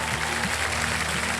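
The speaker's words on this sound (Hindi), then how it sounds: "तालियां बज जाए इनके लिए।" A studio audience at the quiz show Kaun Banega Crorepati bursts into steady, dense applause that fills the whole short moment at an even level with no voices on top.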